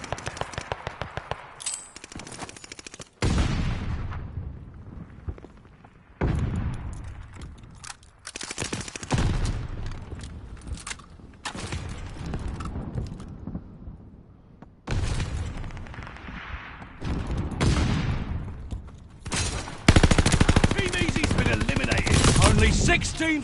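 Video game gunfire comes in repeated loud bursts of automatic shooting with booming impacts, separated by brief quiet gaps and growing heavier toward the end.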